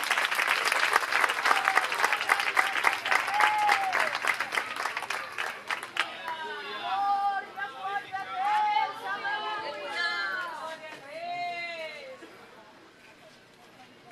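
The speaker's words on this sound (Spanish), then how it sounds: "salva de palmas para o Senhor Jesus Cristo." A church congregation giving a strong round of applause for the Lord, dense clapping for about six seconds that fades into crowd chatter and voices speaking over the room.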